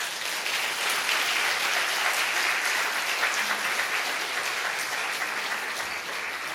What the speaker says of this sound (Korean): 우리 교수님 앞으로 나올 때 따뜻한 박수로 맞아주시기를 바랍니다